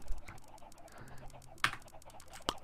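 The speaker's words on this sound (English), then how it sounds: "But there's my fuckload of chickens." Chickens in the Minecraft video game give soft clucks, two sharper squawk bursts standing out among faint clicking sounds, quiet and close.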